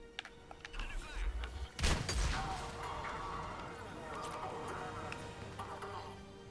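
Gunfire and blasts erupt during an attack in the video game Mass Effect Legendary Edition, with a loud crashing burst near the two-second mark over steady rumbling combat noise and scattered voices.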